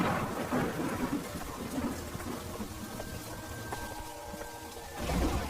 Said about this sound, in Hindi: तभी जोर जोर से बारिश शुरू हो जाती है